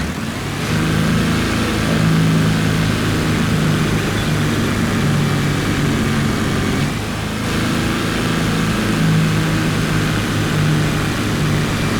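An original Jeep engine runs steadily in an off-road vehicle, a continuous loud droning hum with a low throbbing tone lasting throughout, with no talking.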